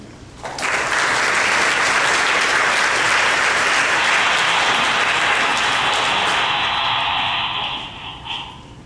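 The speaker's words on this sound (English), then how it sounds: "that was a big round of applause" Audience at a public talk event applauding as a speaker is welcomed, a loud sustained wave of many hands clapping for about seven seconds before tapering off.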